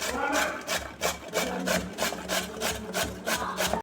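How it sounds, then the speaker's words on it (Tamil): Two potatoes rubbed against a hand grater while prepping bread bajji batter, giving a steady run of close, rhythmic rasping strokes, roughly three per second, with no talk over them. "அடுத்து 2 உருளைக்கிழங்கு எடுத்து துருவிக்குவோம்"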